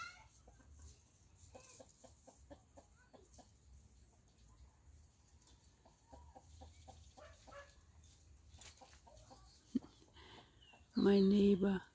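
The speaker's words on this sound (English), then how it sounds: "Rooster." A rooster in a village at sunset gives a loud crow near the end, after quieter clucking and chicken sounds. Faint talk and soft background noise come before it.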